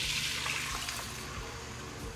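Reserved pasta water poured into a pan of melted butter after cooking linguine, a steady soft splashing, watery rush that stays continuous and fairly quiet, with no talking.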